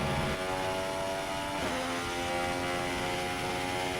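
Formula 1 car engine in an F1 racing video game, a loud, sustained high-revving whine with a brief dip and shift in pitch partway through, steady and alone without talk.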